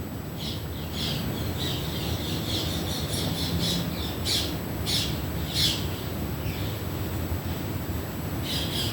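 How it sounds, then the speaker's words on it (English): Birds call outdoors in a rapid, repeated series of high chirps and squawks over a steady low background rumble. "the birds are chirping"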